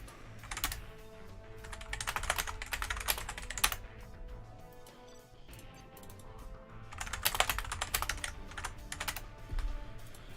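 Typing on a computer keyboard comes in close, steady bursts of rapid key clicks separated by brief lulls, with low background hum throughout.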